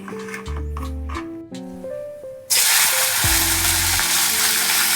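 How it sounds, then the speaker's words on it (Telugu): Green chilies and onion fry in hot oil with a loud, steady, close sizzle that bursts up partway through after softer tonal sounds at the start. "పచ్చిమిర్చి సగం వేగిన తర్వాత ఆనియన్ వేసి వేపుకోవాలి."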